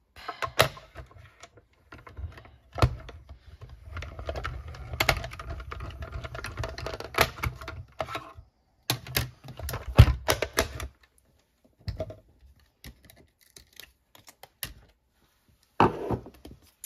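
A small manual mini die-cutting machine for scrapbooking crank-feeding paper through its rollers at a craft table, giving irregular close clicks, clunks and grinding bursts over about eleven seconds, then a few isolated knocks after pauses.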